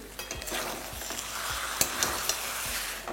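Spiced potatoes are stirred in a pan, with a steady sizzle punctuated by several spatula scrapes and clinks against the metal.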